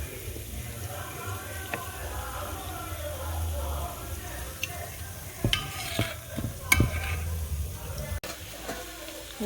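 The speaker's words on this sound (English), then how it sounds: "The pan is ready with hot oil." Beetroot pakoda batter dropped into hot oil, a steady bubbling sizzle with sharp spoon clicks and splatters toward the end, with someone talking over it.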